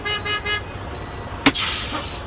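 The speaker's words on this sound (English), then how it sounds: "you hear the horn go all crazy. That's called roll-away prevention." A 2015 Freightliner truck horn honks in rapid repeated short toots as a roll-away prevention alert, close and loud, followed by a sharp clunk and lingering road rumble.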